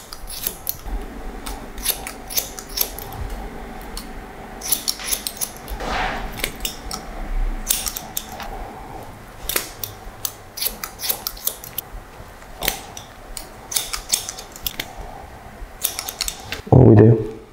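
Scissors snip through long red hair in a salon haircut, a series of crisp, close metallic cuts in irregular bursts, with quiet rustling and handling in between.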